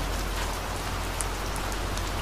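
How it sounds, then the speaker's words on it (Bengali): Heavy rain pours down in a dense, even roar of drops hitting surfaces, steady and loud throughout with no other sounds. "বাইরে আকাশ ভরা অন্ধকারকে ভিজিয়ে হুড় হুড় করে তখন বৃষ্টি পড়ছে"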